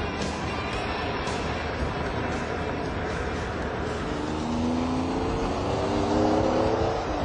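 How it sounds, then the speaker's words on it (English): A Lamborghini Diablo sports car engine drones loudly and steadily, its tone climbing in pitch toward the end as the car speeds up. "It's called the Diablo, and it's one of the fastest cars in the world."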